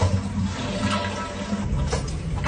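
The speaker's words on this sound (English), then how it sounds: "I didn't hear the toilet flush" A toilet flushing, a steady rushing swirl of water that stays loud and close throughout, with no one speaking.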